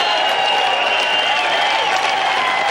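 Spectators at the 1995 Remax World Long Drive Championship applaud steadily, a continuous wash of crowd clapping that holds at an even level for the whole stretch.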